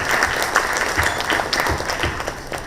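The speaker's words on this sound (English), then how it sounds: "Can we have a round of applause for this great panelists?" A crowd applauds the panelists at a panel discussion, with steady, dense clapping and a few louder individual claps standing out, continuing evenly without speech.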